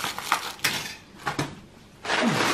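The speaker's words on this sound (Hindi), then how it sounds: "12 पीस चम्मच लेकर आई हूँ।" Twelve steel spoons knocking together in someone's hands, a few bright metallic clinks in short bursts followed by a longer rattling jangle, close and clear with no talk.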